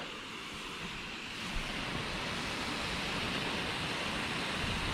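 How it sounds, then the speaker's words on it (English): A Nelson Rain Train travelling sprinkler watering a cricket square gives a steady hiss of spraying water, soft at first and then slightly louder, continuous and even with no voices. "drag the hose over to the cricket square and get the rain train going"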